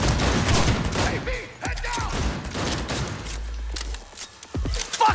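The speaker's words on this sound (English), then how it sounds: "He's shooting through the wall, yo!" Gunfire punches through a wall in Cyberpunk 2077, a chaotic string of loud, close shots and bursts with the game's sounds churning underneath.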